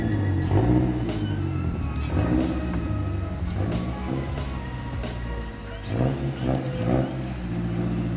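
A Mazdaspeed 3 car engine revs and rumbles nearby, its note rising and falling in repeated pulls, with people talking over it.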